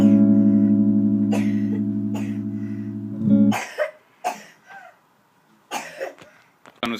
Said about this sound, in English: John was coughing up a lung during that.